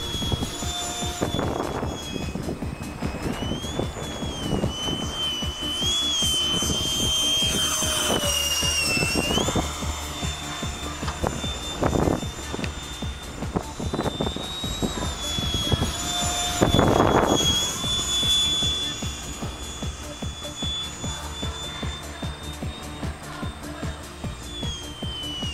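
Vectored-thrust concept jet model aircraft flies overhead with a high, whining turbine tone that rises and falls as it passes back and forth, moderately loud with wind gusting on the microphone.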